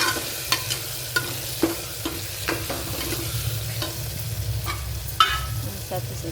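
Spices and tomato are stirred in a pressure cooker: a spoon scrapes and clinks in a steady rhythm over a soft, continuous sizzle.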